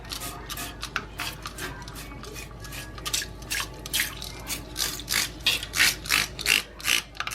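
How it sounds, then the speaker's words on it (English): Rapid repeated spritzes of vinegar from a trigger spray bottle into a toilet, a quick series of short hissing bursts that grow louder toward the end. "we are just going to go ahead and spray this all up in here"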